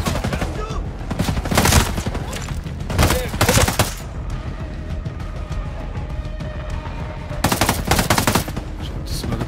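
Video game gunfire in Ghost Recon Breakpoint: loud bursts of automatic rifle fire come in several rapid clusters, separated by quieter stretches of action and background noise.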